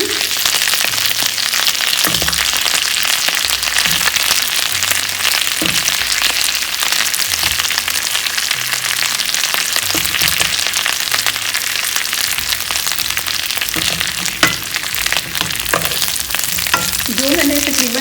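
Large fried chicken pieces tossed into a hot pan and stirred, a loud continuous sizzle with repeated low scraping and knocking of the stirring spoon, close up and unbroken by speech.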